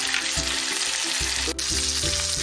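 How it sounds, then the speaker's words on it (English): Loud, steady sizzling of red snapper frying in a hot pan, a dense crackling hiss that runs continuously with occasional shifts as the fish is moved. "You can hear that sizzle, all right?"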